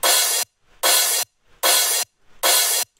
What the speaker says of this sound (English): I think what gives this section more energy is this crash.